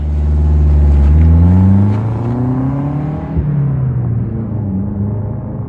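A Saab car engine revs up loudly, its pitch rising and falling, then settles into a lower steady rumble as it idles nearby at a Saab owners' convention.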